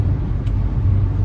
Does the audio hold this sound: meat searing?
no